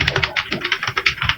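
Fast, uneven keystrokes on a computer keyboard, a dozen or so crisp clicks in quick succession, close and clear with no voices.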